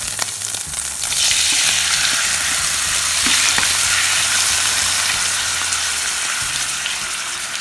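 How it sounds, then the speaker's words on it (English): Shrimp fry in canola oil in a frying pan for Indonesian nasi goreng, a steady loud sizzle with broad hiss throughout and occasional clatter of stirring. "I will add half a cup of canola oil because I'm going to fry my shrimp"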